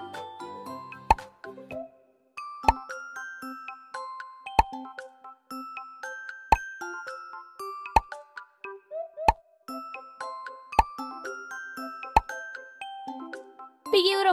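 Bubbles in a children's number-tracing game pop one after another when tapped, each a bright plopping chime with tinkly ringing, spaced about every second and a half over light background music.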